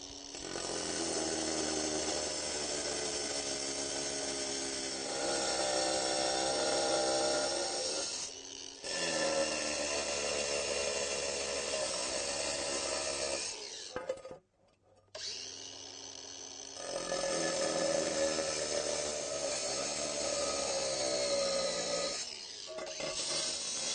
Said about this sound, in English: Because we're in a confined space, we're going to use the angle grinder.